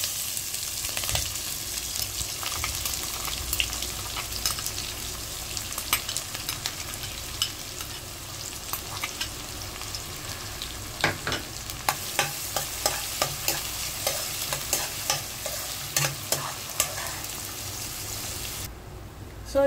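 Chopped onions and green chillies fry in a pan for a tomato curry, giving a continuous close sizzle broken by frequent stirring scrapes, with no talking.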